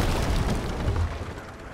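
Ship cannon fire from a boat in a video game produces a deep, rumbling boom with a dense burst of blasts that swell and slowly fade.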